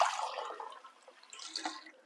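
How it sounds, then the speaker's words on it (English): Water poured into a pan with chicken and stock for a farmhouse potato and chicken casserole, a brief, close splashing pour that trails off into softer trickling. "I'm going to put a bit of extra water in with this."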